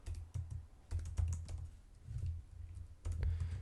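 Rapid clattering keystrokes on a computer keyboard while code for a Spring Boot API is typed, uneven bursts of close, crisp taps with short pauses between runs.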